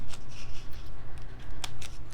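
Scissors snip through thick planner paper in a quick run of crisp, close cuts, each blade closing in a short sharp crunch with brief rustles in between and no talking.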